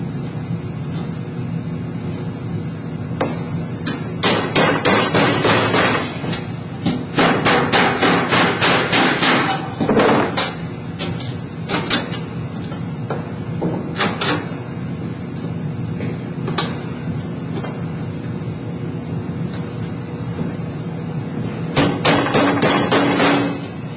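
Hammering a bent sheet-metal duct flange against a table edge while building a duct plenum, loud close metallic banging in irregular flurries of rapid blows over a constant background hum, with no speech.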